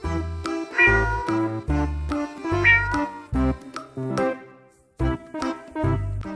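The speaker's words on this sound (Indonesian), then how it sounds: "ini adalah kucing" A series of loud, close cat meows, about eight in a row, each short and tonal with brief pauses between them.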